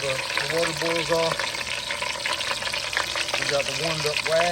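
Hot wax sizzling and popping in a pot as trapped water boils off, a steady close frying crackle with harmonic tones and what sound like voices mixed in.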